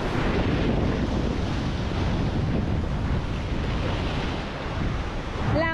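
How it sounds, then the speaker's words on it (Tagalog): Big ocean waves crash and surge continuously around a boat in rough weather, with heavy wind buffeting the microphone throughout; loud and close, no talking. "Laki ng alon oh."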